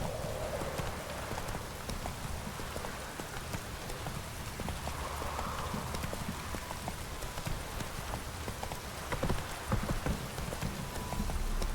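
Steady rain downpour in The Witcher 3: Wild Hunt, a dense hiss of falling drops with soft rhythmic hoof clops mixed in, continuous throughout with no talk.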